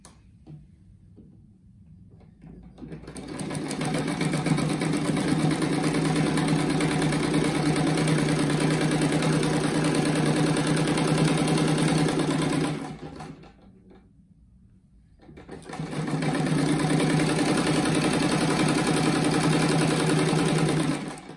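A sewing machine stitches a fabric strip for a rug in two long continuous runs separated by a short pause, its steady rapid whir close and loud, with no talking.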